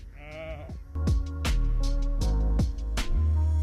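Sheep and lambs bleating close by, several loud wavering calls in quick succession, one after another with short gaps, with no talking.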